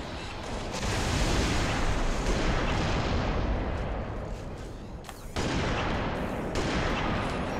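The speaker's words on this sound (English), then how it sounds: "Noble is the one mortaring us the whole time" Mortar fire in Halo: Reach booms in dense, rumbling bursts that run almost continuously, with a brief dip near the middle before another heavy explosion and the barrage resumes.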